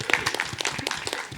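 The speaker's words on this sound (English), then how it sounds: "Round of applause for the plushies." Convention crowd at a pony fan event's opening ceremony gives scattered, uneven applause, a mix of separate claps and a faint crowd murmur underneath, moderately loud and fairly close.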